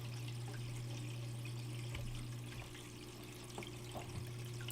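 Water running steadily over a gold prospecting sluice fitted with mats, a continuous rushing wash over a constant low hum, with a few small splashes and knocks and no talk.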